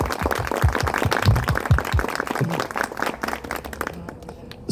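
A small audience at a bookshop launch in Brazil claps for Cristiane: dense, fairly close applause that gradually thins and fades near the end.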